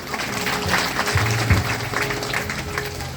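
Audience at a Ram katha gathering clapping together just before a bhajan begins, a continuous wash of hand claps with a low hum underneath, at moderate level.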